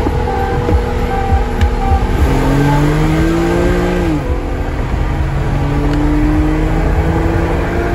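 A stock BMW 335i pulls hard through a race, its engine droning loud and close with rising revs, a shift dip around midway, then climbing again over steady road and wind roar.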